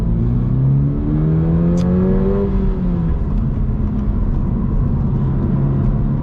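A 2022 Subaru BRZ manual sports car drives along a road, its engine note rising through the gears and then settling into a steady cruising hum, close and fairly loud with no talk.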